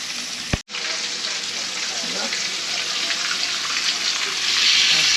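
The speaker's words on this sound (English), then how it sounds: "the fish is frying" Fish frying in a pan for Guyanese metemgee, a steady, bright sizzle that holds evenly and swells a little toward the end, broken once by a sharp knock near the start.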